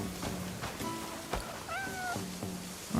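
A cat in the video game Crimson Desert meows several times in quick succession, close and clear, with rising and falling cries over a soft background.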